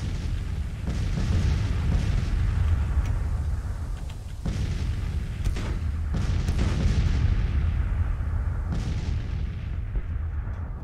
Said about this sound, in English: We're going to let our artillery do its work